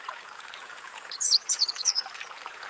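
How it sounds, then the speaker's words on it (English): Synthetic outdoor scene of a running river under a cluster of quick, bright bird chirps, the water a steady faint rush and the chirps close and lively. "that's definitely a river running and then birds chirping"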